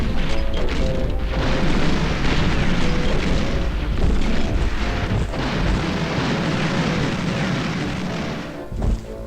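Heavy artillery from a big gun booms in a World War II video game set around Leningrad, a loud sustained roar of repeated blasts and rumbling explosions that fades slightly at the end.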